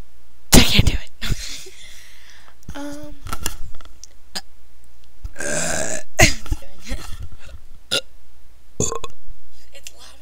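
Repeated burping attempts during a late-night burping contest, several short rough belches and gulping sounds spread across the clip, close and fairly loud, mixed with breathy noises and bits of voice.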